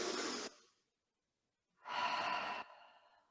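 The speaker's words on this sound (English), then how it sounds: "One more breath." Two slow, deep breaths during a yoga session: a long airy exhale, a pause of silence, then a fuller inhale or sigh that trails off. They sound close and clear, with no talk.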